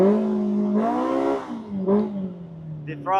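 A Polaris RZR Pro R fitted with an MBRP slip-on muffler revs up and down in a few throttle blips, its engine note rising and falling close by, with a brief clatter at the end.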